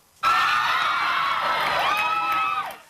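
A concert audience in Texas shouts and cheers as a singer attempts a stage dive, a dense wall of excited voices swelling suddenly and holding steady before cutting off near the end.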